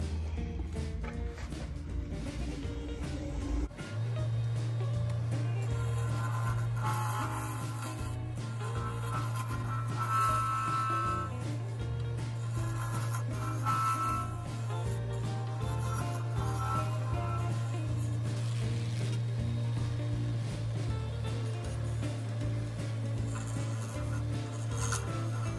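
A steady low lathe motor hum runs throughout, with harsh scraping and rasping of a tool cutting a spinning acrylic honeycomb pen blank layered over it.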